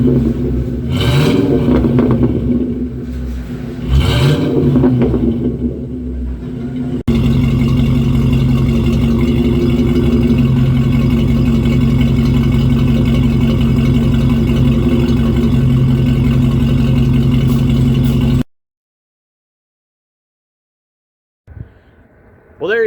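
A 1996 Ford F150 two-wheel-drive gasser with a new axle-dump exhaust: loud music plays at first, then a steady, deep, throaty engine drone holds for about ten seconds before cutting off abruptly.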